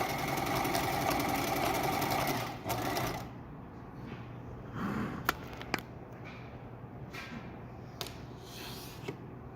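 A sewing machine stitching fabric runs in a fast whirring burst for a few seconds, then stops, leaving faint clicks and handling noises.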